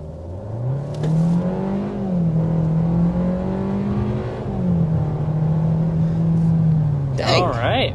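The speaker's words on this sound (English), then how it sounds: "let's go ahead and start out with a hard acceleration" A 2024 Kia Seltos with its 1.6-liter turbo engine under hard acceleration, revs rising and dropping through gear changes, close and steady, with brief voices at the start and a burst of talk near the end.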